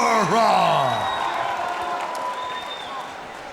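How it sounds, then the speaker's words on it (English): A sold-out crowd at a Shamrock FC mixed martial arts event roars and cheers, with loud whoops and yells rising early and then holding as a steady wash of arena noise. "This sold-out capacity crowd is ready for this next contest."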